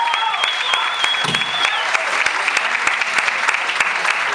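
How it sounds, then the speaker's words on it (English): Audience at a comedy show at the House of Blues in New Orleans breaking into steady, dense applause with scattered whoops, filling the room continuously from start to end. "Give it up for your host, Leon."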